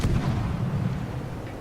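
Warship guns from the T-61 destroyer in World of Warships let out a single heavy boom that rolls off into a low rumbling decay, with no voices.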